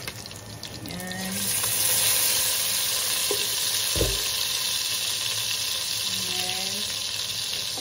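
Garlic frying in a pan for a home dinner, a steady broadband sizzle with occasional utensil clinks and stirring, close and continuous, with a brief spoken word near the start.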